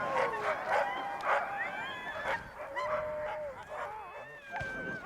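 Sled dogs howl and bark together in a rising and falling chorus of overlapping wavering cries, several animals close by, with short yelps breaking through.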